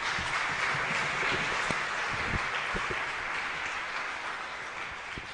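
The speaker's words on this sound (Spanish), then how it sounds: "Fuerte aplauso." A congregation at a Catholic Mass applauds steadily, the dense clapping holding for several seconds before easing slightly toward the end.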